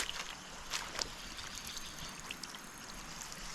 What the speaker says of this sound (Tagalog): Yan po yung ating patubig po. Malakas pa rin po yan.